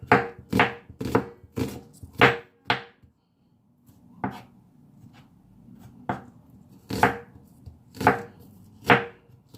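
Knife blade chopping an onion on a cutting board for Jamaican salt fish fritters: bursts of quick, close, crisp chops, a pause near the middle, then more spaced-out cuts.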